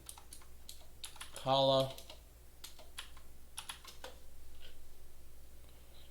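Typing on a Redragon K557 RGB mechanical keyboard, clusters of crisp clacking keystrokes in short bursts with pauses, close and quiet, with a short tonal electronic sound in the middle and a brief spoken word.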